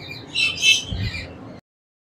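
Green ringneck parrots squawk at a bird sale, a few harsh, loud calls close by over a low background hum, ending abruptly.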